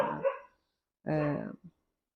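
A dog gives a short bark, and after a pause a longer, louder bark follows, ending in a small yip. The dogs are close and heard at the end of an afternoon with no talk over them.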